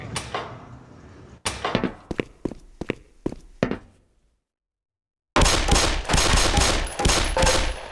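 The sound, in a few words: pistol shots at targets in Black Mesa video game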